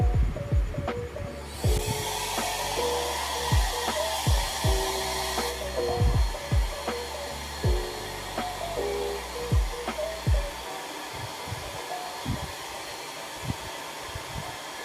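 A Showsee anion hair dryer runs continuously at close range, a steady airy whir with a low throbbing hum and a brief stretch of brighter, louder airflow near the start.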